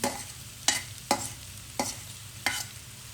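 Garlic dropped into a pan of partly softened onions, sizzling steadily with four sharp spatula scrapes or stirs spaced through, each a crisp burst over the low frying hiss; no talking.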